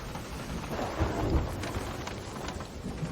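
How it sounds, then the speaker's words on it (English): A storm at sea in a pirate video game, with low rolling thunder swelling in the middle over a steady hiss of rain and wind, fairly quiet and with no voices. "One thing I hate about playing by yourself is these storms."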